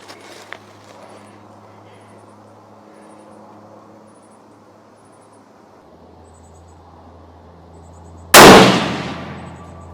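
A single loud rifle shot cracks sharply near the end while a Valdada Recon G2 scope is tested at a shooting range, preceded by quiet ambient background and a faint click.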